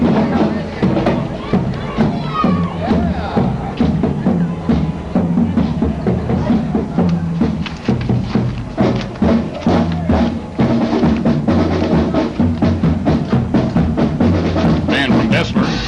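Marching band playing in the 1992 Ontonagon Labor Day parade, a steady wash of brass and drums heard from the street amid crowd chatter, continuous and fairly loud throughout.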